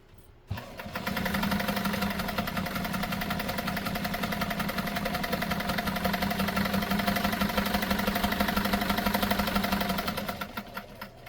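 A Nesco de Luxe push-button zigzag sewing machine stitching a wide zigzag, starting up and running at a steady fast whir with rapid rhythmic needle clatter for about ten seconds before stopping, close and fairly loud.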